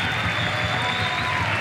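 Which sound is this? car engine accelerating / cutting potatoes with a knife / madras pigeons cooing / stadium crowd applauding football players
stadium crowd applauding football players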